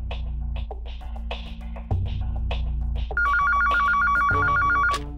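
A telephone keeps ringing with no answer, with repeated trilling rings that start quiet and get loud and sustained toward the end, over a steady low background hum.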